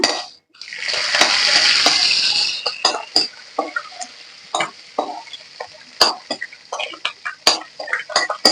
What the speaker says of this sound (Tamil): கடலை பருப்பு நல்லா வந்து ஃப்ரை ஆகட்டும் இப்போ லைட்டாக ஃப்ரை பண்ணுங்க